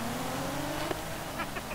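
A stock Japanese car engine in Forza Horizon 5 drones quietly at a steady pitch, faint and low in level, with a slight rise near the end.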